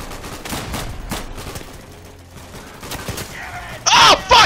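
Gunfire in the World War II shooter game Day of Infamy, a scattered burst of several shots followed by a louder, harsher crack near the end, with brief shouting mixed in.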